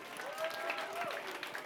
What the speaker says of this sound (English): A round of applause for our PhD students thus far.